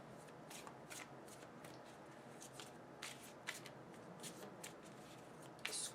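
A deck of tarot cards riffled and shuffled by hand in repeated crisp bursts, close and fairly quiet, with soft card slaps between rustling passes and no talking.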